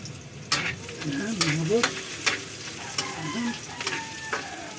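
Garlic frying in a hot pan for a sauté, a close, steady sizzle with bursts of crackle and stirring scrapes, while someone talks briefly over it.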